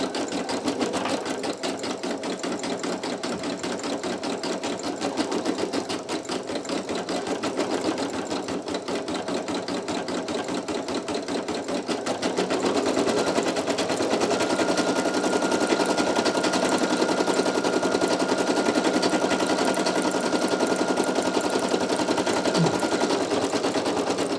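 A Brother PE800 embroidery machine stitches a design into a towel, its needle hammering in a fast, steady mechanical rhythm that runs loud and close for the whole stretch, growing slightly fuller partway through.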